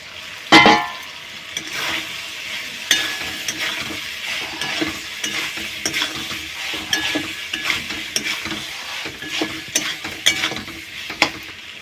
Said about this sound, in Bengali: এইবার ভেজে রাখা আলু আর পটলটা দিয়ে আরেকটু কষিয়ে নেব।